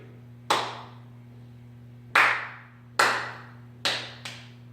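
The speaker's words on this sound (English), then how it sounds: "So let's go ahead and clap this out" Single pair of hands clapping a rhythm in three-beat measures during a music lesson: five crisp, close claps with uneven spacing, the last two in quick succession, over a quiet background hum.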